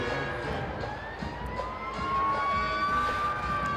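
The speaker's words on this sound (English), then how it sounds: "Here's sirens everywhere, Keith." Several sirens wail and rise in pitch at once, moderately distant, over the background hum of a high school homecoming football game crowd.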